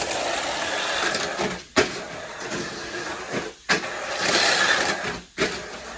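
A stock-motor RC car, charged on a VC8 charger, starts off with a whirring motor broken by several sharp stop-start bursts over about six seconds, fairly close and moderately loud.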